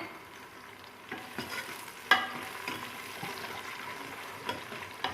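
Chopped onions and green chillies fry in oil for mutton biryani with a soft, continuous sizzle, while a spoon stirs and scrapes the pan in a few sharp knocks, heard close and fairly quiet.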